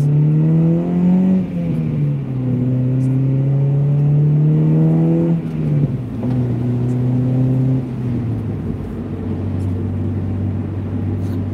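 A car engine revs up and down repeatedly with a throaty, droning exhaust note, pitch rising and falling in long sustained sweeps, close and loud.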